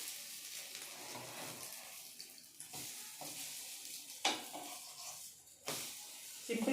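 An egg fries in a little oil in a pan, giving a soft, fairly quiet sizzle and crackle broken by a few louder bursts and scrapes as it cooks.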